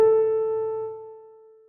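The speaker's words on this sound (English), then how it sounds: "This A, the A above middle C, has a frequency of 440 Hertz." A single piano note, the A above middle C, struck once and left to ring as a clear, pure tone that slowly fades, heard alone.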